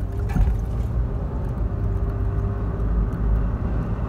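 Steady low engine and road rumble from a car being driven during a voltage test, a constant close drone with faint traffic-like noise and no talking.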